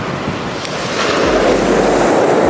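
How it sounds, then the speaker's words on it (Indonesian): Ocean waves breaking on a beach, a loud broadband wash swelling and rumbling close by with wind buffeting the microphone. "Ngeri ya ombak ya."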